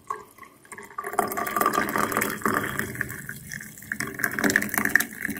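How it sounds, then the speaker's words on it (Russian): Freshly brewed coffee pours into a glass up close, a steady trickling, splashing stream that starts after a second of quiet and rises in pitch as the glass fills. "Вот, друзья, заварился кофе. Наливаю свой стакан любимый."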